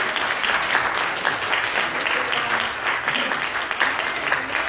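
A Baptist church congregation claps their hands in praise at a Baptism Sunday service, a loud, full and sustained burst of many people clapping together, continuous throughout with no speech over it.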